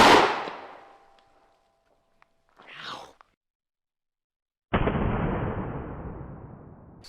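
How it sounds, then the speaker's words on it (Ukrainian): A loud 12-gauge shotgun with a 22-inch barrel fires buckshot, the blast ringing out, a brief rustle follows, then a second close, sharp shot with a decaying echo. "Знову постріл дроб'ю."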